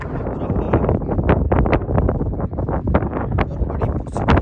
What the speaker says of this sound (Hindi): और बड़ी पुरसकून हवा चल रही है